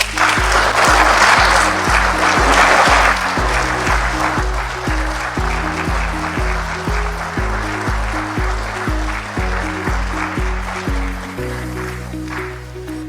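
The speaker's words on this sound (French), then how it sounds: "je veux demander à la plénière d'applaudir très fort" A plenary assembly breaks into loud, sustained applause, a dense wash of clapping that fills the room, with a steady musical tone running underneath throughout.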